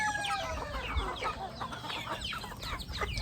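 Several native chickens cluck and squawk in a busy, overlapping chorus at a moderate distance, with steady outdoor background noise.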